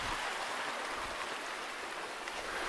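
Small stream flowing, normally prone to drying out, heard as a faint, even watery hiss without pause and with no voices.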